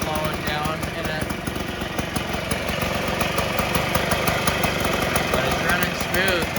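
A 1958 Allstate Vespa scooter idles after a cold start, its small engine putting out a steady, close, rapid pulsing chug that stays even for the whole stretch.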